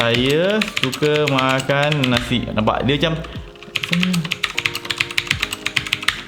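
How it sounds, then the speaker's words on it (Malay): Typing on a Machenike K7 low-profile mechanical gaming keyboard with blue switches. Crisp clicky keystrokes run under a man's speech at first, then continue as a fast, close patter of clicks on their own. "Blue switch ni dia ada clicky sikit."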